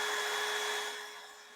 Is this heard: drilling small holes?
yes